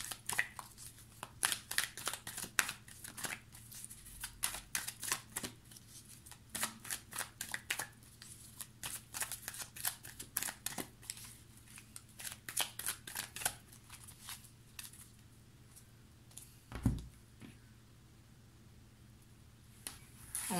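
Tarot cards being shuffled and drawn, with close, crisp riffling and slapping card sounds coming in irregular bursts over a quiet background.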